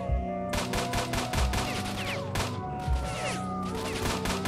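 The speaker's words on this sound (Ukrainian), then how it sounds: "І стріляють кудись над головою, а цей прямо в бочку зарядив." Gunfire in the video game S.T.A.L.K.E.R.: Shadow of Chernobyl, with several loud bursts of rapid automatic shots separated by short pauses, close and sharp.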